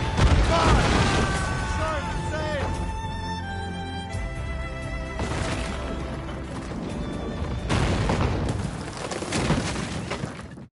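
Ship cannons firing in Assassin's Creed Rogue naval combat, heavy booms with crashing and splintering debris, loud and close, mixed with shouted orders and game music.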